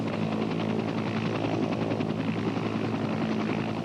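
A helicopter hovering over a ship's deck during shipboard refueling, its rotor thudding in a fast steady beat over a continuous engine whine, loud and close for the whole stretch with no speech.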